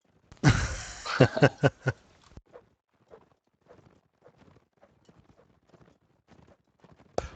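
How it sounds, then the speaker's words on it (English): A horse rearing in a video game: a burst of rapid hoof clatters and stamps at first, then sparse, quieter hoof taps and shuffles trailing off, with a final thump at the end. "Deafening was just kind of rearing the horse."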